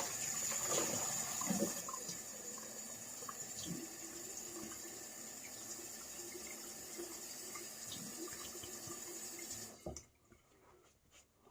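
Sink water running and draining after a shave, a faint continuous trickle and splash with small clinks, close by, ending abruptly in near silence.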